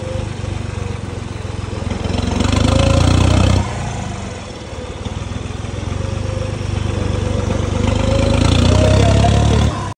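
A New Holland 3630 tractor engine runs at a steady idle with a throbbing low drone, rising louder twice in swells, with no talk over it.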